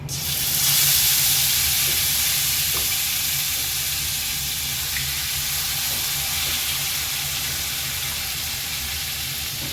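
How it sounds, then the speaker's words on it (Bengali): Marinated katla fish sliding into hot oil in a pan with fenugreek, bursting into a loud sizzle that settles into steady frying hiss and crackle, with no talking. "এর মধ্যে যে মাছটা মেখে রেখেছিলাম সেই মাছটা দিয়ে দিচ্ছি"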